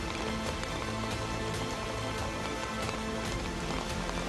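Heavy, steady rain pours onto a waterlogged street in Vasai-Virar, where drains are overflowing. The hiss is dense and continuous, close and loud throughout, with no voices.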